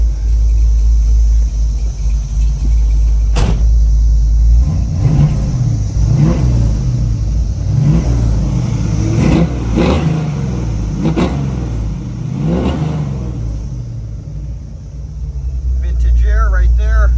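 A 1968 Chevrolet Camaro engine idles with a deep close rumble and is revved repeatedly in a series of rising and falling bursts.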